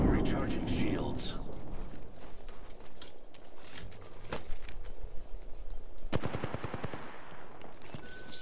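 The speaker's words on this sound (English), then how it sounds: "Firing on subjects" Video game gunfire, bursts of rapid automatic shots scattered through the scene with a heavier volley toward the end, mixed with footsteps and other game effects, while a voice talks intermittently.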